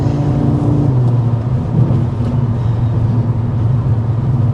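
2026 Audi RS3 engine accelerating, a loud, steady, throaty rumble and drone heard close and continuous with no talking.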